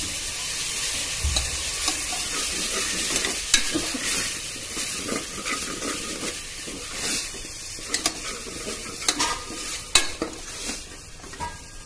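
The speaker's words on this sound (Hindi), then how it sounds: "अब ऐड करेंगे टमाटो" Chopped tomato hits ground almonds and peanuts frying for undhiyu, bringing a loud, steady sizzle with repeated scraping stirs and occasional sharp clicks of a utensil against the pan, with no voices.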